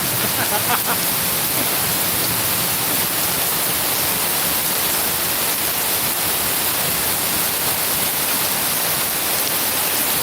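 Heavy rain pours down on a Hyderabad street while runoff rushes along the road, a loud, unbroken broadband roar of falling and flowing water that fills the whole stretch without pause.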